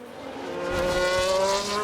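A Formula 1 race car engine in the video game F1 Manager 22 whines and revs with a rising tone, tires screeching as the car slides out, close and loud, at the Dutch Grand Prix.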